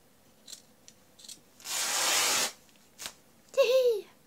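Scissors cut through fabric in one dense rasping snip-and-slice lasting nearly a second, with small handling noises before it and a brief voice sound just after.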